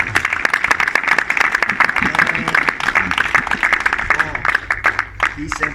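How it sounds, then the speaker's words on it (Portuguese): A church congregation applauds in praise during a worship service, a loud, continuous clapping of many hands carried under voices and a sustained musical tone, steady throughout. "Aplausos para a glória do Senhor."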